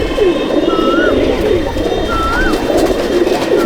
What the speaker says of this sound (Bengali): এইগুলো আপনার পিওর কোয়ালিটিতে পায়রা আছে, পিওর কোয়ালিটিতে এটা গাজরা রামপুরি আছে